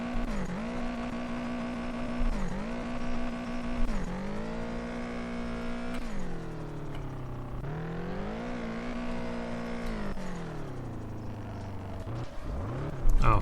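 Car engine in the Japanese street-driving game Drift Streets Japan, droning steadily and rising and falling in pitch through repeated revs and gear shifts, loud and continuous.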